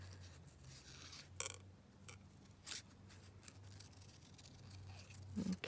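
Scissors snip through fabric scraps in a few short, crisp bursts with quiet pauses between, close and fairly soft, with no talking.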